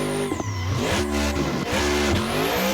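Racing car in a video game from a beginner-friendly car pack, engine revving up and down through gear changes in a smooth, continuous drive with no talk.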